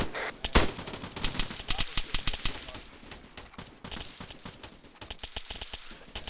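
Rapid overlapping gunshots crackle through a large-scale Arma team-versus-team battle, a steady rattle of near and distant rifle and machine-gun bursts with a sharp close crack early on.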